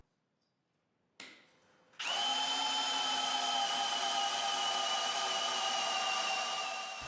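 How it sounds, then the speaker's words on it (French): A Maximum impact drill from Canadian Tire runs at low speed, starting with a short whir and then settling into a loud, steady high-pitched motor whine that holds until it cuts off. "Ma deuxième perceuse sera toujours celle à percussion."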